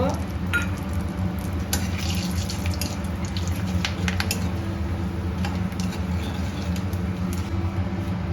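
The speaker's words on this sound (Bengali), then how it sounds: "মশলাটা ভাজা হয়ে গেছে" Steady crackling sizzle of cumin, cardamom, cinnamon and cloves frying in hot oil, with sharp little pops scattered throughout and a low kitchen hum underneath.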